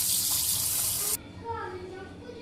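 Spinach leaves are washed under a running tap. The water pours steadily for about a second, then cuts off abruptly, and a voice speaks afterward.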